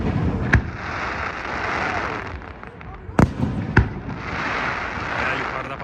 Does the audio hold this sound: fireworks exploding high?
yes